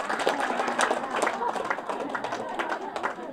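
A church congregation claps together in a steady burst of hand claps, with voices mixed in underneath.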